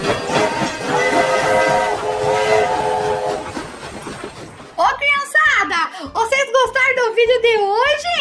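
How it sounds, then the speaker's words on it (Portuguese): A train whistle gives a long, steady blast for about three seconds as the train departs, then lively voices take over, talking and singing loudly. "O trem já pode partir."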